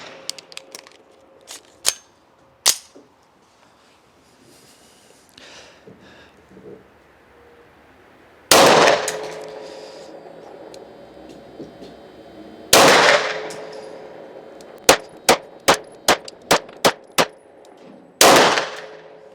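Sharp pistol shots from an FN Browning Hi-Power at an outdoor shooting range, a few spaced single reports followed by a quick string of rapid shots, loud and close with no talking.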